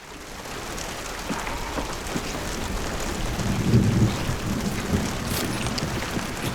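Heavy rain pours steadily with low rolling thunder building around the middle in the video game Hunt: Showdown, a loud constant wash with no voices.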